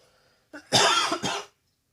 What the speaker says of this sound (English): I was pausing for the liquid in the cough